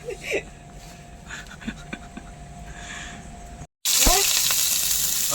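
After a brief cut, a loud hiss of onions frying in a hot pan starts suddenly and keeps sizzling steadily, following quieter clinks and kitchen sounds.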